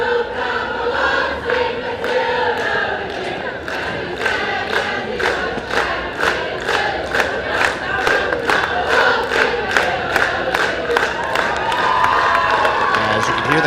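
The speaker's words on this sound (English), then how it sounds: "we know the song that is now belting out of the crowd right now, a little bit of Waltzing Matilda" A rowdy stadium crowd at an ultimate frisbee championship sings Waltzing Matilda together, loud and sustained, punctuated by rhythmic clapping that keeps a steady beat throughout, with cheers and shouts rising over the singing.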